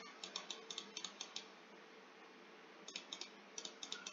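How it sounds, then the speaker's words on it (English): Rapid mouse clicking during Roblox Fame Simulator comes in quick, quiet bursts of sharp clicks, stopping for a stretch in the middle before resuming, close up with no talking. "Keep clicking."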